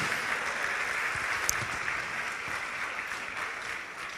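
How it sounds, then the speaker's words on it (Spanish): Church congregation applauding steadily during a worship service, a dense continuous clapping that holds at even loudness throughout with no talk over it. "vamos a dar un aplauso, démosle a Él, porque es para el que gobierna desde los cielos"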